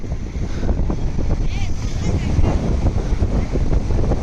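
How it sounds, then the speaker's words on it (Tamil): Wind blowing at sea aboard a fishing boat off Rameswaram, a steady low rumble buffeting the microphone for the whole stretch, with faint voices in the background. "ஆமாம், கொஞ்சம் காற்று கூட இருக்குது."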